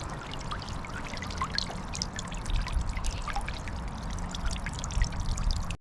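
A solar water fountain spraying water, giving a continuous close splashing and pattering trickle that stays fairly loud and even until it cuts off at the end, with no speech.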